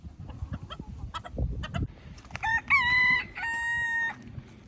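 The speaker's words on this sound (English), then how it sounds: "So we're pretty pleased to hear him crow." A farmyard rooster crows once, loud and close, a rising then held call lasting over a second, after scattered scratching and clucking sounds.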